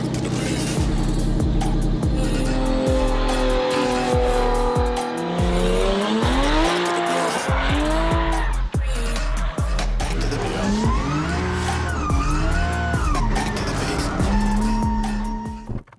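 A race car on a track, its BMW electric drive and newly fitted electric power steering rack under test, whines with rising and falling pitch sweeps while tires squeal through corners, loud and continuous with no talk.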